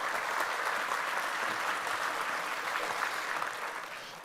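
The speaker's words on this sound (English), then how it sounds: "Let's give him a round of applause." An audience at a corn and soy expo applauds, a dense, steady wave of clapping that holds for about four seconds before starting to taper off.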